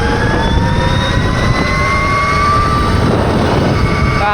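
A 2025 RAWR Mantis X 72v electric bike makes a top speed run in race mode, its motor whine rising steadily in pitch over loud, constant wind rush.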